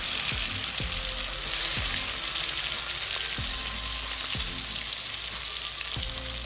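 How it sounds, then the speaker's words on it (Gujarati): Cumin seeds and capsicum frying in a hot tempering pan for red sauce penne pasta, a steady loud sizzle with a few soft stirring scrapes spaced through it, close by with no voices. "તો વઘાર મારવા માટે આપણે પહેલાં જીરું નાખીશું એમાં."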